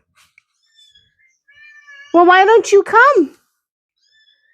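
A single cat gives a loud, drawn-out two-part meow at close range, with a person speaking briefly just before it.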